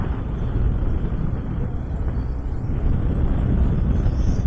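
Steady broadband road rumble of a car driving on the Allahabad to Lucknow highway in India, continuous and fairly loud with wind buffeting, and no talk heard.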